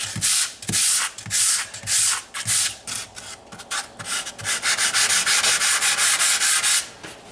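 Close, loud sanding of a drywall patch on a wall: repeated hand strokes that rasp on and off, then settle into a steadier, faster scrubbing toward the end, with no talking.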